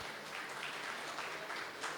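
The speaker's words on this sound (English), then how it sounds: "please do clap for them" An event audience applauds its speakers with steady, dense clapping that stays even and moderately quiet throughout, sounding somewhat distant.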